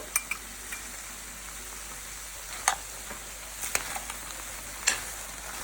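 Chopped potato is stirred into okra frying in a pan, Telugu style, giving a faint steady sizzle with a few light spoon clinks and scrapes.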